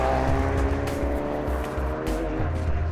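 Ford Focus RS driving hard along Blakey Ridge road on the North York Moors, its engine note loud and continuous with shifting revs and gear changes, close and sustained throughout.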